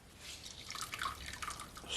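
Water is squeezed by hand out of grated sweet potato and potato, giving faint wet drips and trickles in short, uneven spurts, quiet and close, with no talking.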